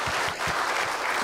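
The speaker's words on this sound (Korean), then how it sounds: "거기도 박수 쳐드리세요." Church congregation claps in a brief, steady burst of applause filling the room.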